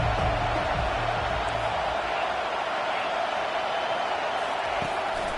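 Stadium crowd roaring to back the defense on third down in an NCAA college football video game, a dense steady wall of cheering throughout, with a low rumbling layer early on.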